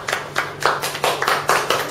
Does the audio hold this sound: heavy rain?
no